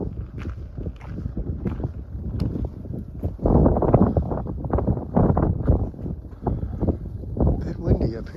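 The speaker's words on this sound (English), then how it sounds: "A bit windy up here." Strong wind buffets a high mountaintop vista along a hiking trail, roaring and gusting steadily across the microphone with louder surges in the middle, while a person talks underneath.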